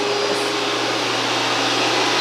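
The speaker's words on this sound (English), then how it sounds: "Do that before the vacuum gets over here as well." Vacuum cleaner running steadily in a home kitchen during a day of baking, a constant whooshing motor drone with a low hum, fairly loud and unbroken throughout.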